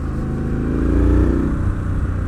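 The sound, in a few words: 2020 Triumph Street Scrambler motorcycle engine revving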